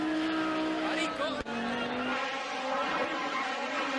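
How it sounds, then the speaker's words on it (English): A Group B rally car drifts along a cliff edge, its engine rising and falling in pitch, with a sharp brief pop partway through, heard at moderate distance under excited talk. "Cliff edge drifting."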